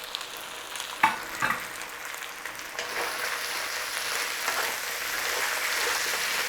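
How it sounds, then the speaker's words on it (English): Aromatics and onion stalks sizzle steadily in a chicken-and-onion stir-fry pan, a continuous crackling hiss with a few brief clatters near the start and a gradually louder fry toward the end. "There's a lovely pan of aromatics going on there. In there with those onion stalks."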